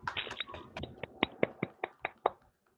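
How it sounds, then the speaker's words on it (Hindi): Applause from an audience after a business presentation at a women's empowerment event: a short burst of hand claps, at first dense, then thinning into about eight distinct, fairly close claps that fade to silence. "मैं फिर से एक बार वर्षा कांडे मैडम का शुक्रिया अदा करना चाहूंगा आपकी जोरदार तालियों से।"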